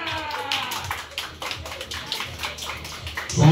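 Spectators at a children's potato race clap in a ragged burst of applause under outdoor crowd noise, with a voice cutting in near the end.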